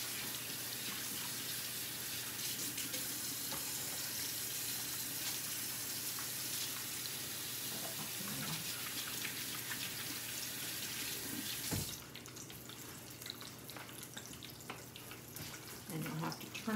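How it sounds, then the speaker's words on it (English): A kitchen tap runs steadily while hands are washed, a bright continuous hiss of water that shifts in tone partway through as the flow changes, with food frying and a voice nearby. "Wash my hands again."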